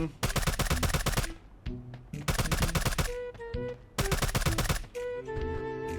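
Rapid bursts of gunfire from shooting practice targets in the Sausage Man game, loud close volleys in several clusters separated by brief pauses, with short tonal game effects between them.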